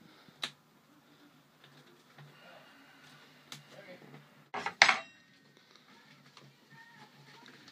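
Metal spatulas scrape and clack against a wax-coated mould while prying out a cast Halo Reach Mark V helmet, with a few sharp knocks and one loud scraping burst; people talk nearby.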